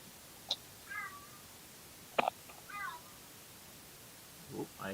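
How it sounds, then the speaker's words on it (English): A cat meowing softly a few separate times at a distance, with brief faint knocks and rustles between calls against a quiet background. "I hear a kitty"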